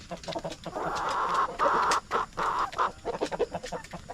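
Rhode Island Red roosters cluck steadily and close by in a farmyard, a dense run of throaty calls with short pauses and scattered chatter, over a constant rustling background.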